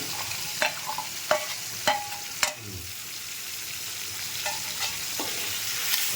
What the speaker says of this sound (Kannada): right to left left to right ತಿರುಗಿಸೋಣ